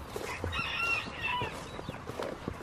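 Chickens in a coop clucking and calling, several overlapping mid-pitched clucks and short crowing-like cries at moderate distance over a noisy outdoor background.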